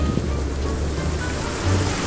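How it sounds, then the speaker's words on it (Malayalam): Steady rain falls outside a cave in the survival video game Sons of the Forest, a continuous broadband hiss with a low rumbling undertone, fairly loud and unbroken, with no voices. "പുറത്ത് നല്ല മഴ"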